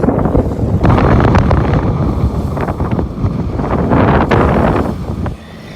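Strong wind of around 20 knots buffets a sailboat on the open Tasman Sea, a loud continuous roar and microphone rumble with waves washing past, steady throughout before easing slightly at the end.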